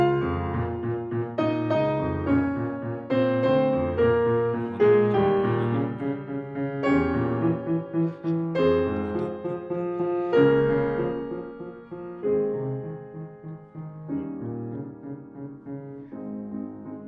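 Solo piano plays a flowing classical sonata passage with sustained chords, gradually softening in a diminuendo toward the end; no voices.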